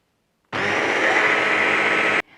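A kitchen blender whirs loudly and steadily for under two seconds, blitzing flour, vanilla sugar, salt, sugar and baking powder into crumbs for a tart base, starting and stopping abruptly.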